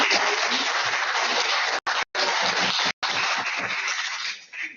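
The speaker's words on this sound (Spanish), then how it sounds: "nos vamos a despedir calurosamente con un aplauso para la profesora Paulina." Dense, loud applause from an online class audience for a teacher after a lesson on Byzantine dress, steady throughout with a few abrupt dropouts.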